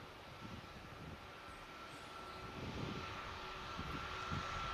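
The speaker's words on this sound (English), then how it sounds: "looks like the Ryanair to Bologna 737 Kilo Papa is going to get out prior to this Turkish" A Ryanair Boeing 737 taxis out at Manchester Airport ahead of departure for Bologna, giving a steady, fairly distant engine rumble with a faint whine above it that slowly builds.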